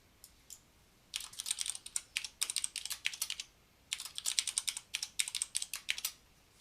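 A password typed on a computer keyboard, two bursts of quick, even keystrokes, crisp and close, separated by a short pause, with no voices.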